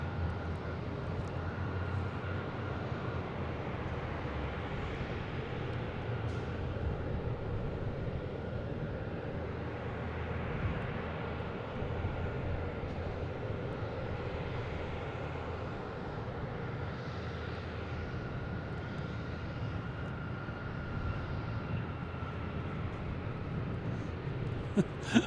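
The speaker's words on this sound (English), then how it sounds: "Next taking off, though, we have United Airlines heading to San Francisco at 737, MAX 9, flight 2400." A United Airlines Boeing 737 MAX 9 taking off from Boston Logan, a broad, steady jet engine roar heard from a distance that holds throughout, with no voices.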